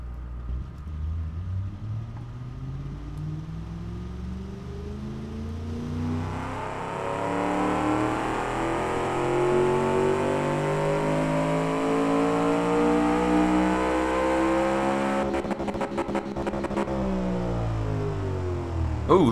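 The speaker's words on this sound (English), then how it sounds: "Oh, a little bit of sound clipping there at the rev limiter." A Honda-style high-revving V8 in the Automation car-building game climbs steadily to its rev limiter, a loud sustained engine whine that stutters with clipping near the top before settling.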